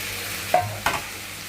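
Potatoes going into hot oil for Bengali aloo posto, with two brief stirring scrapes and a soft sizzle, quiet and close, with no talking.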